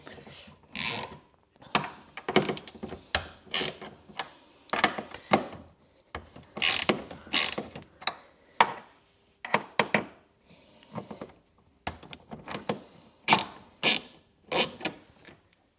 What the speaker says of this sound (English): then you've got your four 10mm bolts to do using this deep socket